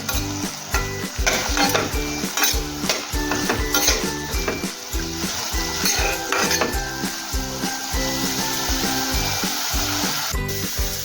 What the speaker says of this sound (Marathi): चिरलेला बटाटा हा आपल्याला तांबूस रंगावर येईपर्यंत भाजून घ्यायचा आहे